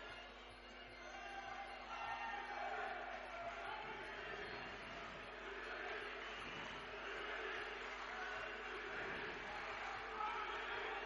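Spectators at a Fight Club Marmara championship bout in Keşan cheer and shout steadily, a distant, quiet, reverberant crowd roar with a commentator's voice talking over it.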